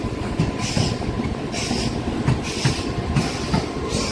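The Chennai–Nizamuddin Duronto superfast express runs at speed, giving a loud, close, continuous rumble with regular wheel clicks and faint squeals. No voices are heard.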